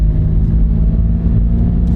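Aggressive off-road tires roll on pavement while driving, producing a loud, steady low hum and rumble inside the vehicle that persists without a break.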